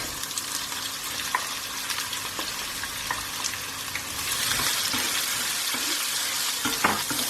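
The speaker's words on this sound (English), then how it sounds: "we're going to mix these onions through till they turn just a very, very light golden color" Onions sizzle loudly in hot oil with dried chilies and bay leaves for a dhaba-style bhuna chicken masala, a continuous close-up frying hiss with stirring scrapes that swells louder partway through.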